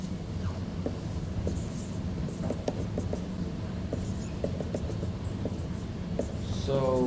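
A pen scratching on paper while someone works through a math problem on k-means and Gaussian clustering, with soft irregular strokes and taps under a low background hum and a faint rustle near the end.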